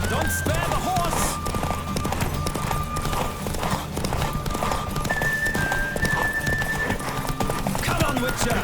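Rapid hoof clatter from a racing horse in The Witcher 3 pounds on continuously, with occasional whinnies and snorts up close beneath game music and some speech.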